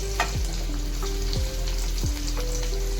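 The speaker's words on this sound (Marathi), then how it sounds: "जिरा टाकलेला आहे आपण. त्यात आता आपण लसूण टाकत आहोत." Garlic and cumin frying in hot oil in a pan, a steady close sizzle with a few sharp scraping stirs of a spoon against the pan, no voices.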